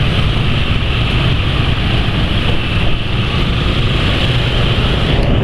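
A Yamaha NMAX scooter's engine runs steadily with a smooth, even hum and a hiss of wind, close and loud throughout, with no speech.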